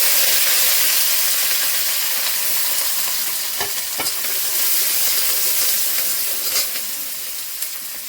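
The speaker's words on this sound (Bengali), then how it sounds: "পেঁয়াজটা, রসুনটা, কাঁচা লঙ্কা ভেজে নিয়েছি।" Garlic, onion and green chilli fry in hot oil with a loud, steady sizzle and hiss, broken by a few scraping stirs of a spatula in the pan.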